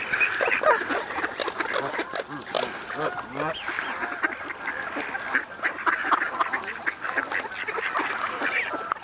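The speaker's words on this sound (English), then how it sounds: "Oh, that's like a smaller, weird duck." Ducks being fed at a bird sanctuary quack repeatedly and close by, their calls overlapping in a lively cluster while people talk and laugh over them.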